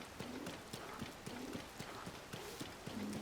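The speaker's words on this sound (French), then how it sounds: "Les petits chevaux." Horse hooves clip-clopping in Zelda: Tears of the Kingdom, a quick, fairly faint run of regular hoof taps with a few soft tonal game sounds mixed in.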